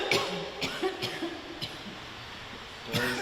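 A person coughs repeatedly, several short bursts spaced across the moment, fairly close and moderately loud against a quiet background.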